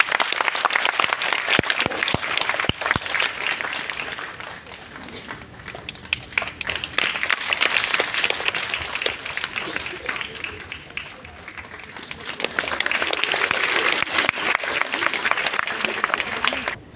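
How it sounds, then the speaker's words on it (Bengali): Loud applause from an audience at a stage drama event, dense clapping that swells, dips in the middle and surges again, with voices mixed in. "একটা জোরে হাততালি।"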